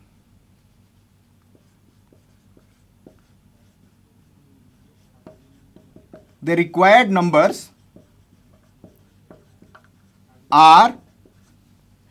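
Marker or chalk writing numbers on a board in a classroom lesson: faint, scattered taps and short scratches at low volume, with a person speaking in two brief bursts.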